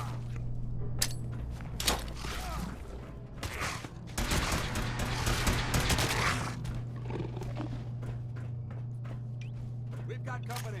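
A missile launcher fires in a Fallout video game, sending out a loud, roaring blast of several seconds amid scattered mechanical clanks and thuds, with people talking throughout.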